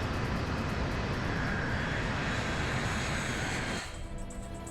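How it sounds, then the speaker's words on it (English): Four jet engines on an airliner roar loudly and steadily as they throttle up during an aborted landing, a dense broadband rumble that drops slightly in level near the end. "Captain Lutz throttles up his plane's 4 jet engines as he aborts his landing."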